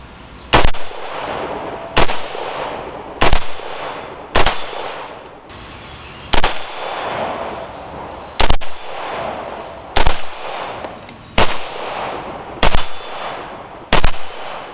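A 5.56 rifle fitted with an OSS Bannar Alpha 1 muzzle brake fires about eleven sharp, loud single shots at irregular one- to two-second intervals, each followed by a short echoing tail outdoors.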